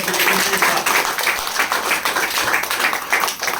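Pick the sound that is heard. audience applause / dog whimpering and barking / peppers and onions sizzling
audience applause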